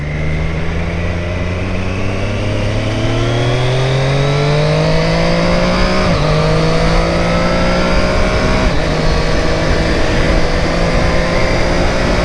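A 2025 Triumph Street Triple 765 R motorcycle engine revs steadily higher through the gears to about 7,000–8,000 rpm, its pitch climbing with brief dips at each shift, loud and close throughout.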